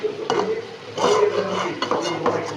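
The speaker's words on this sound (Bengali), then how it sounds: "আজকে একটু ভিন্ন রকম করে ভুনা করছি।" Potatoes and dried fish bhuna with onion, garlic and spring onion being stirred in a pan, a utensil scraping and clinking in a steady rhythm over a soft sizzle, close and fairly loud.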